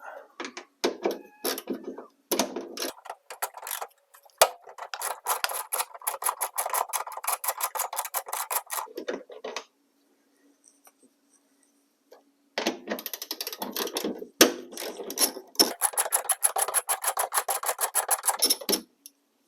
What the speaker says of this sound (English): we're going to remove these nuts using a 8mm socket, an extension, and my 1/4" ratchet